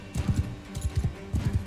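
Horse hooves galloping in Mount & Blade II Bannerlord, a fast, close, loud clip-clop run of hoofbeats in irregular bursts with no talk.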